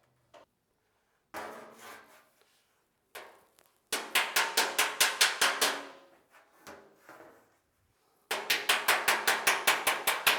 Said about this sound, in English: go back and forth with the hammer on dolly and perfect these edges